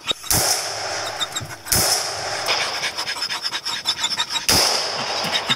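Three loud, sharp gunshots fired at a hunted animal, spaced unevenly, with rustling and rubbing noises close by between the shots.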